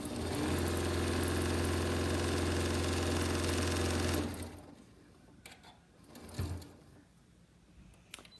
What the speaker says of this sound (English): we're going to do our edge stitching on our napkin